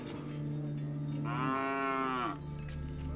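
Cattle in a drought-stricken part of Africa, one cow giving a long, loud, close moo that rises and falls for about a second, set against steady background noise.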